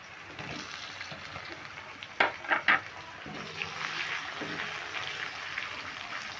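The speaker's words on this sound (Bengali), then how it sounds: "টমেটোটা দিয়ে একটু নাড়াচাড়া করে ভেজে নেব।" Chopped tomatoes sizzle in a pan with softened capsicum for onion- and garlic-free chili paneer, a steady close frying hiss with a short burst of stirring clatter partway through.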